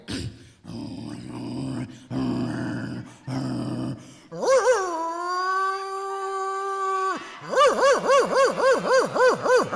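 A mimicry artist at a village comedy show imitates a dog, first with throaty growls and grunts, then a long, loud howl, and finally a quick, rhythmic series of yelping barks.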